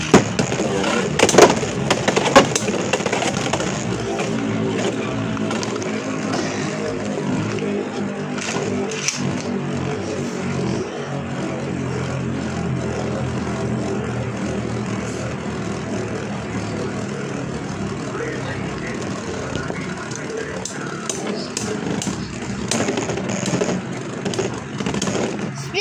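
Beyblade X spinning tops, Hells Scythe against Knight Shield, whirring and grinding in a plastic stadium with sharp clacks of collision at the launch, then a steady, close, buzzing spin that continues to the end.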